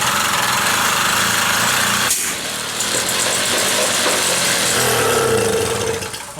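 A Motobecane moped engine fitted with a Dellorto carburetor sputters and roars loudly up close as it tries to catch during a start attempt, with a brief dip in the noise partway through before it picks up again.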